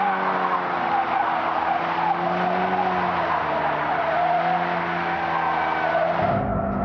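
A 2016 Ford Focus RS drifting in drift mode gives off a loud, sustained tire squeal over a droning engine for several seconds, with the squeal cutting off abruptly near the end.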